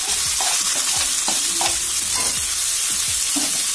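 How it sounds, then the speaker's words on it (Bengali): Boiled chal kumra greens going into browned onion and garlic in a hot pan: loud sizzling under repeated spatula scrapes and stirring strokes in a quick, uneven rhythm. "শাকগুলো দিয়ে আমি নাড়াচাড়া করে নেব"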